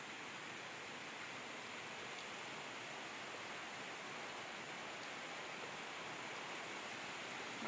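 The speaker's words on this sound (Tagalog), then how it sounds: "Kanina ambon lang po, ito na. Totoong ulan na po siya." Steady afternoon rain gives a faint, even hiss of falling water that continues without a break, with no voices.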